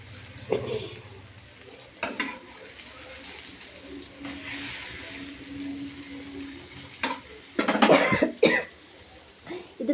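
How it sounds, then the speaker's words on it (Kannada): Fish frying in a pan in a home kitchen gives a soft, continuous sizzle, joined by stirring scrapes, a cough, clattering and brief voices nearby. "ಫಿಶ್ ಫ್ರೈ ಮಾಡ್ತಾ ಇದ್ದಾನೆ ಇಲ್ಲಿ"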